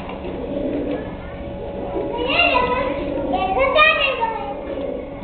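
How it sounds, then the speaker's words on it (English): Pigeons or doves nesting at Austin Zoo coo softly in the background while a child and an adult talk close by over a low outdoor murmur. "the birds make their nest in here"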